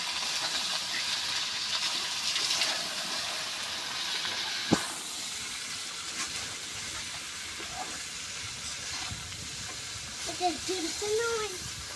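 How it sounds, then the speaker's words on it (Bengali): Flat beans sautéing in a pan with cut potato, salt and turmeric, giving a soft, steady hiss and sizzle throughout, with an occasional sharp clink of a utensil and brief voices. "সিমটা একটু কষে নিব।"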